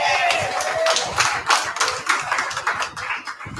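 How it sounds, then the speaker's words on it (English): A room of striking teachers at a strike gathering applauds themselves with uneven, fairly close clapping from a modest group, individual claps audible through the sound. "Give yourself a round of applause."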